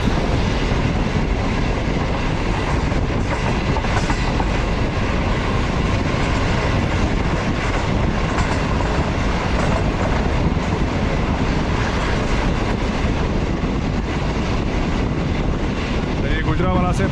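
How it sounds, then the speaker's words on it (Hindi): Green Line passenger train running at about 80-85 km/h through Gujranwala, heard as a loud, steady, continuous rush and rumble of wheels and carriages with faint clickety-clack, lasting throughout. "गुजरांवाला से पास थ्रू हो गई ट्रेन और तकरीबन 80 से 85 किलोमीटर स्पीड होगी ट्रेन की"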